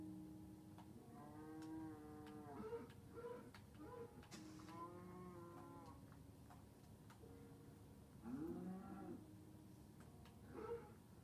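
A cow moos in the Minecraft video game, drawn-out lowing calls repeating over a faint ticking background, quiet and distant-sounding.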